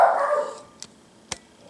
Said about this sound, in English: shut that stupid dog up